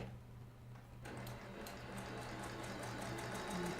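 A sewing machine stitching quilt pieces a quarter inch from the edge, running steadily after a quiet start, close and alone with no talk.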